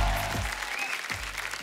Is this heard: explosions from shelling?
no